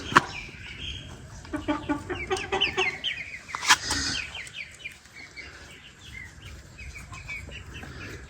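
Japanese chickens in a farmyard cluck and call repeatedly at close range, with several overlapping birds and a rooster-like call near the middle against steady background noise.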